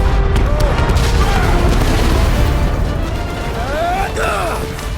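An explosion in the Marvel's Guardians of the Galaxy game, a loud, sustained rumbling blast with crashing debris and booming layers, continuing under frantic voices and tapering slightly toward the end.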